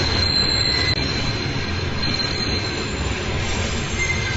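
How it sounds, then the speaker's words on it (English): A long train rolls past in Kazan, Russia, a continuous loud roar of wheels on rails with a high metallic squeal running throughout, no voices. "It's a long train."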